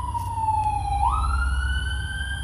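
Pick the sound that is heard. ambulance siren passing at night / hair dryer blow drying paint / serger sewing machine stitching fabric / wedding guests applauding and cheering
ambulance siren passing at night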